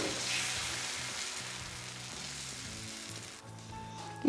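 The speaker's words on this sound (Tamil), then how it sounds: "கல் நல்லா சூடான பிறகு நம்ம தோசை ஊற்றிடலாம்." Vegetable oats dosa batter sizzles on a hot griddle, a close, continuous frying hiss that tapers slightly before a brief clatter at the very end.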